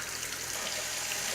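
Hot water runs from a kitchen faucet into a pot, a steady, even hiss of flowing water, close and continuous with no talk.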